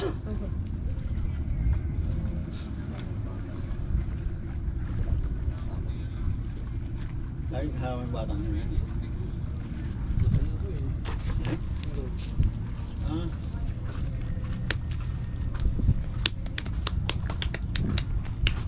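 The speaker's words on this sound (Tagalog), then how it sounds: "papalapit na po yung bangka" A small fishing boat's motor drones steadily as it approaches on open water, wind buffeting the microphone, with brief voices and clanks partway through.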